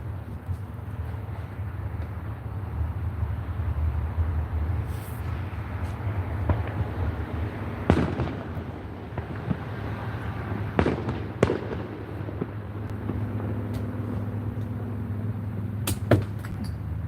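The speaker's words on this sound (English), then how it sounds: "Y'all heard them fireworks? They still putting them fireworks out." Outdoor fireworks go off at a distance, several sharp cracks and pops scattered across a steady rumble of wind and traffic-like background noise, with no talking.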